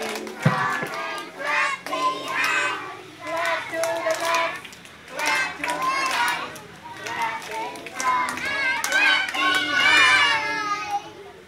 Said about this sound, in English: Clap your hands, clap your hands, clap your hands everywhere.